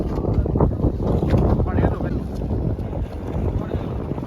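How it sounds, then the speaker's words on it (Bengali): A fishing trawler comes in on the Ganges, its engine a low continuous rumble mixed with heavy wind buffeting the microphone and lapping water, close and steady throughout. "এখানে একটা ট্রলার ঢুকছে মাছ ধরে"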